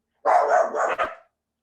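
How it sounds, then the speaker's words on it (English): A dog barks sharply once or twice in a single short burst, loud and fairly close, with quiet before and after. "Sorry about the dogs."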